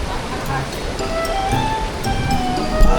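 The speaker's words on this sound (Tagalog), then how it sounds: "Talaga napakalakas ng alon." Strong ocean surf after a storm in Occidental Mindoro roars in a continuous wash of noise, swelling toward the end, while people talk over it.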